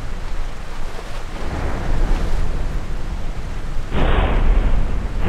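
A rainstorm with thunder and lightning in a GTA video game running a graphics mod: continuous rumbling and downpour, then a sudden louder thunderclap near the end that rolls on.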